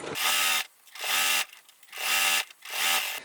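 A sewing machine stitches a quilted drawstring bag in three close, loud, buzzing bursts of rapid needle strokes, with short pauses between them.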